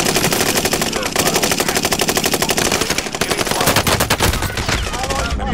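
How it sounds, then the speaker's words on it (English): Rapid automatic gunfire from enemy players in a Fortnite match rattles in dense continuous bursts, loud and close, with faint game sounds mixed in. "I'm getting shot by a whole other team"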